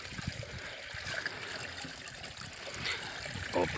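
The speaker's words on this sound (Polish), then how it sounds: "O, proszę, napełnia się woda." Spring water trickles and gurgles into a bottle at a woodland spring, a steady close liquid dribble with faint outdoor ambience.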